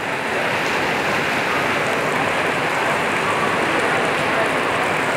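A heavy downpour pounds at the Nong Khai immigration checkpoint in Thailand, a loud, dense, unbroken roar of rain throughout.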